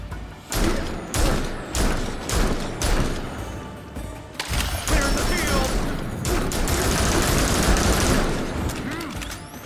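Launchers fire in the Gotham Knights video game, a barrage of heavy thumping shots and bursts in quick succession, loud and dense, followed by a sustained rumble of impacts and mechanical clatter, with a voice briefly heard.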